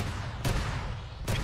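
Arma 3 battle gunfire in a Warhammer 40k scenario, two sharp shots heard at a distance, set against a constant low battle rumble and without any voice speaking.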